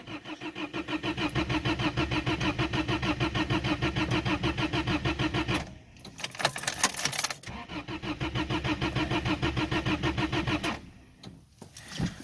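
Car engine cranking without catching, a fast rhythmic starter whir that runs for several seconds, breaks off into rattling clatter, then resumes for another long crank before cutting out.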